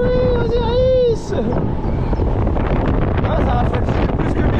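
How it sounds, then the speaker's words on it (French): Wind gusts across the microphone at an amusement park ride area in France, a steady loud rumbling whoosh throughout, with people talking over it near the start. "Il y a du vent, ça rafraîchit."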